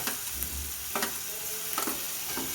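Onions with garlic, ginger and green chili paste sizzle gently in a pan while a spatula scrapes and stirs in a few distinct strokes, fairly quiet and without talk.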